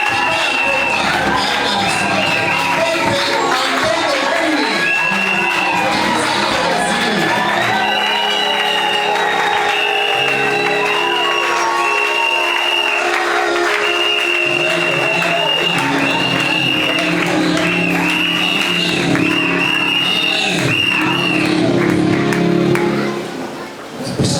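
Church congregation at a consecration and minister confirmation service cheering, whooping and applauding loudly and continuously, with shouts and high ululating cries rising over the crowd for a long stretch before fading at the end.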